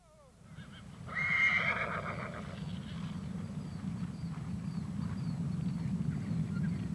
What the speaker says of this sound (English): We'll start in western Montana amid the thundering hooves of over 250 quarter horses.